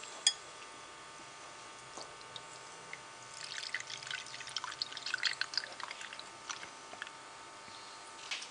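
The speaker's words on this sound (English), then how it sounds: "The milk now goes into the Pyrex dish coated with the caramelized sugar." Milk poured into a Pyrex dish coated with caramelized sugar for caramel custard, a quiet trickling, splashing pour with scattered drips, close and steady with no talk.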